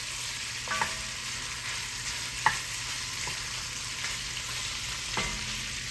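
Leftover prime rib of beef fries in its fat in a stew pot with a steady, quiet sizzle. Occasional spoon scrapes and clinks break in a few times as the meat is stirred around, with no talking.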